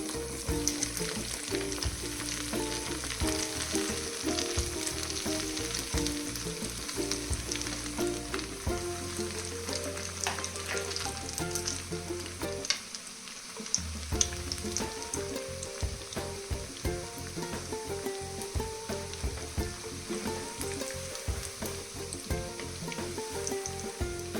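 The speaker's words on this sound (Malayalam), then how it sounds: "ഇനി എണ്ണ കാഞ്ഞ് 1 by 1 ആയിട്ട് ഇടുക." Idli pieces fry in hot oil, dropped in one by one, giving a continuous close bubbling sizzle with crackles, a short lull midway, then steady frying to the end, no voices.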